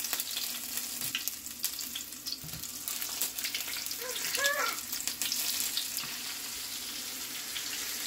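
Sea bass frying in hot oil, coated lightly in flour, with a steady hiss and crackle of sizzling throughout, moderately close and without talk.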